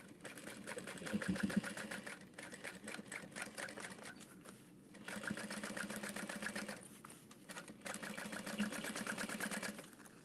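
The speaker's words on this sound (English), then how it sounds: "you can just sew through the exterior all the way across, pressing your seam allowance towards the exterior" A sewing machine stitching across the exterior of a fabric beauty bag runs in three long bursts of rapid, even needle chatter with short pauses between, close and clear with no talking.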